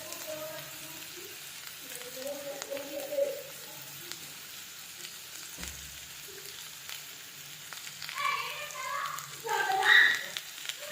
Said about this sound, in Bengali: এখন কিছুক্ষণ নাড়াচাড়া করব আলুটাকে কষিয়ে নিব মশলার সাথে